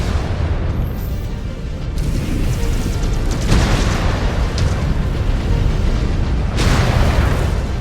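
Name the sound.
mech destroyed with explosion in MechWarrior 5 video game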